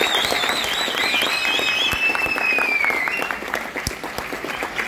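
Loud, dense applause from an audience welcoming an evening program at a theatre awards function, a steady wash of many hands clapping close and full, with a whistle-like tone gliding over the start.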